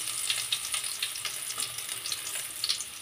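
Chopped garlic added with whole cumin and a bay leaf to hot oil, crackling in a faint, steady sizzle with small popping bursts spread through the clip.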